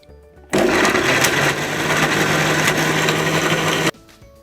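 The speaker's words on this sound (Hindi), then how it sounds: "इन सब चीज़ों को अच्छी तरह ग्राइंड करें और चटनी सी बना लें।" An electric grinder whirs loudly and steadily for about three seconds as it blends chutney ingredients with sugar, starting and stopping abruptly against a quiet kitchen background.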